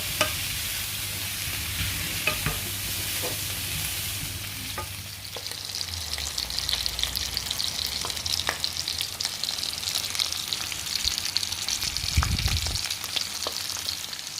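Fish fillets with skin on fry in a hot pan, skin side down, for a lemon butter garlic dish: a steady, close, dense sizzle runs throughout, with a brief clatter of stirring or turning near the end.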